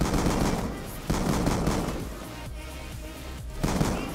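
Rapid automatic gunfire from Call of Duty: Black Ops 2, dense bursts rattling almost continuously with a few sharp breaks, loud and close, coming from several directions at once.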